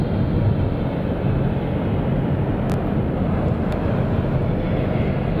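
Jet aircraft moving around the apron at Munich airport, a steady heavy rumbling roar close by, with a couple of brief sharp clicks.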